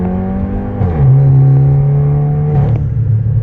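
A 2019 Volkswagen Arteon with a 420 hp engine pulls onto the interstate, its engine note rising in pitch as it accelerates, then holding a steady, close, loud drone inside the cabin.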